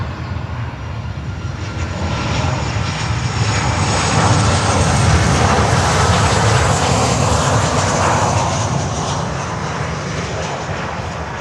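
An American Airlines Boeing 737 arriving at Miami airport gives a loud, steady jet roar that swells toward the middle and holds, with no talking.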